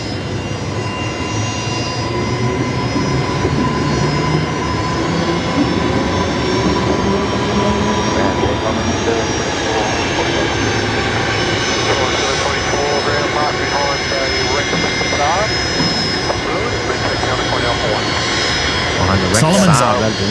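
A Solomon Airlines passenger jet taxies at Brisbane Airport at night, a loud steady engine roar that holds evenly throughout, broad and rumbling, with a brief whine near the end.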